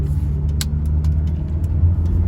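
A 1995 Volkswagen Cabrio with a manual clutch drives on the road. A loud, steady low engine rumble runs throughout, with a few brief clicks and knocks from inside the cabin.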